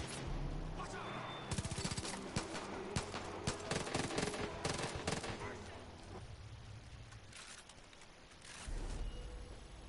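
In the Far Cry 5 video game, rapid gunfire sounds in dense bursts of sharp cracks and automatic volleys for several seconds, then fades into a quieter rumble before a low boom swells at the end.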